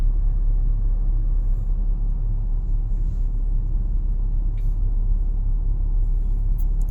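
A car drives steadily along a road during a driving lesson, its low engine and tyre rumble constant and close throughout, with faint brief higher noises from outside and no talking.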